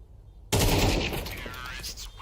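Counter-Strike gunfire on the Inferno map erupts after a half-second of near silence, a loud burst of rapid shots that keeps echoing and rattling at a steady level to the end.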